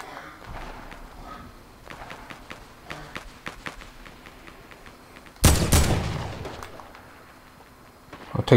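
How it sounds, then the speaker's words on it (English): During a Fortnite match, a burst of gunfire erupts mid-clip, loud and close, then fades, preceded by faint footsteps and distant ticks. "I hear gunfire."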